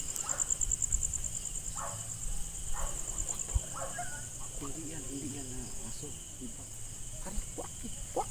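Dog at a night-time cemetery, distant barks and faint whimpering over steady cricket chirps and low rumble, with people talking quietly nearby.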